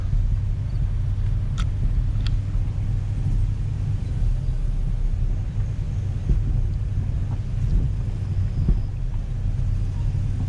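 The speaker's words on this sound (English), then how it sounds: "the wind's ripping" Strong wind buffets the microphone steadily throughout, a heavy low rumble with gusty surges, heard outdoors beside a slow-moving farm tractor on a rural road.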